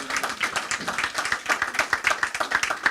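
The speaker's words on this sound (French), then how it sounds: "Je pense que vous pouvez applaudir cette initiative et cette responsabilité également" Audience applause at a French round-table panel event: dense, steady clapping from many hands carries on loudly for the full three seconds, with no speech over it.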